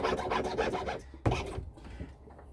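A jeweler's saw cuts metal for a step bezel, with rapid rasping strokes at close range that pause and then return as a few slower scrapes.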